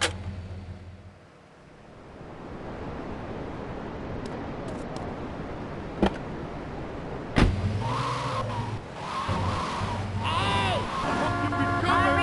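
Grand Theft Auto 3 car engine idling and revving through a steady mid-level drone, with rising engine tones in the second half and a sharp knock partway through; no one speaks over it.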